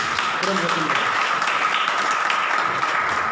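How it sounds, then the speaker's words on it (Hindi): Congregation in a church applauding together, a dense steady wash of clapping from many people that fills the whole stretch, with voices mixed faintly underneath. "सारे एक बारी पवित्र आत्मा के लिए ताली बजाएंगे।"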